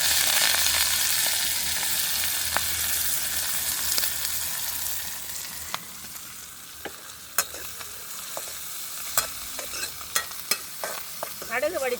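Onions and chillies frying in oil, a loud, close hiss that gradually settles, with sparse clinks and scrapes of a utensil toward the end and no voices.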